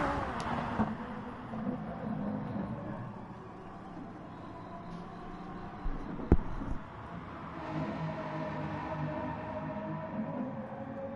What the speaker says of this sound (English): They're flying through this track even in the Gr4 cars.